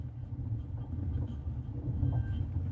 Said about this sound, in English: when the train came by, like I about lost it